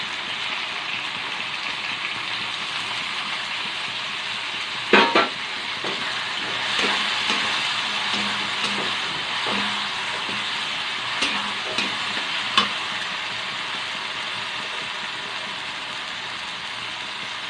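Soybean curry fries in a pan with red chilli paste, giving a soft, even sizzle throughout with a few brief clinks and stirring knocks, moderately quiet and without speech.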